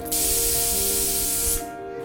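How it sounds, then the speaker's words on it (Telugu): A pressure cooker holding mutton gravy curry with tomatoes and water lets out a loud, steady hiss of escaping steam for about one and a half seconds, then cuts off abruptly. No one speaks. "కుక్కర్ మూత పెట్టుకుందామండి. 4-5 విజిల్ వచ్చే వరకు."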